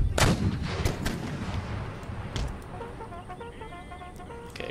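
Artillery fire in the video game Empire: Total War, a loud cannon boom followed by scattered distant gunshots and rolling battle noise, with faint birdlike tones near the end.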